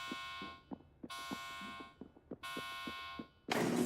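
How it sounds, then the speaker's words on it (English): An alarm in the video game Delta Force blares in repeated long tonal blasts with short gaps, with scattered soft thuds between them and a burst of harsh noise at the end. "as the alarm does finally get deactivated."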